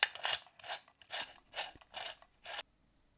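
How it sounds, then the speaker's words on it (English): A metal upright microscope stand being screwed onto a metal base gives a run of six or seven short, close ratcheting grinds in a steady rhythm, quiet and without voices. "the metal upright stand is screwed onto the base."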